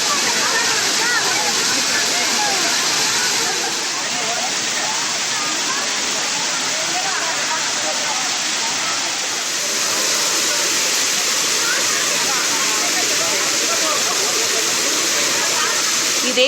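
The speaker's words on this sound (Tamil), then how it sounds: "விட்டுவிட்டு பெய்த மழை காரணமாக அருவியில் நீர்வரத்து அதிகரித்துள்ளதால்" A waterfall swollen by intermittent rain roars in a steady, loud, broadband rush that holds for the whole stretch, with a voice speaking over it.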